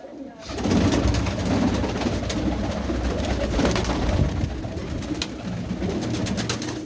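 Pigeons of a red-headed, white-eyed fancy breed coo in a steady, dense murmur of overlapping calls close by, running continuously with no pause.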